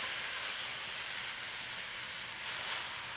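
Fresh spiralized vegetables sizzle in a hot skillet, giving a steady, loud broadband hiss that holds evenly throughout with a slight swell near the end, no voices present.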